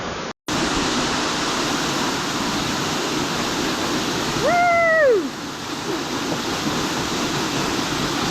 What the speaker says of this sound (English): But the waterfall's nice.